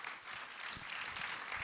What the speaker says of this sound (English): And maybe everyone give a great round of applause for Vishal and for Oliver.